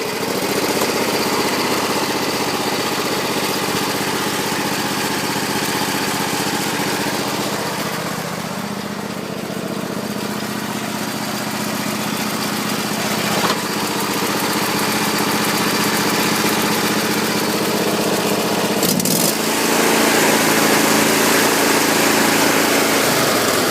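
A John Deere L120 riding lawn mower engine runs steadily after being choked, a loud, close, continuous drone that dips slightly midway and then swells again, with no talking.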